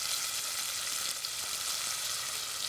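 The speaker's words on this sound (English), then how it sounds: "got onions frying, you've got a delicious smell, you've got a meal happening already" Onions and curry powder frying in oil make a steady, dense sizzle with a soft crackle, close and even throughout with no talking.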